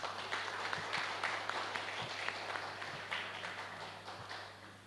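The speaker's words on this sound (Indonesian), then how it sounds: "Boleh tepuk tangan." An audience at a formal induction ceremony claps together, a dense, fairly distant patter of many hands held steady for several seconds over a low electrical hum.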